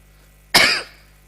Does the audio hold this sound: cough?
yes